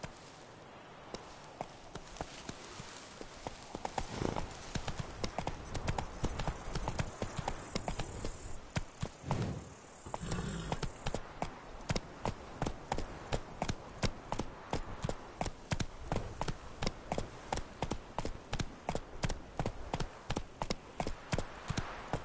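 Roach the horse's hooves clip-clop steadily in The Witcher, a fast, regular galloping rhythm close and loud that runs throughout, with a brief busier stretch partway through.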